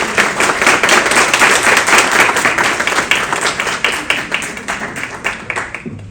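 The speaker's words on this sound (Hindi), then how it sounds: "आप एक बार जोरदार तालियां" An audience at an awards ceremony applauds loudly and steadily, a dense wash of many hands that tapers off near the end.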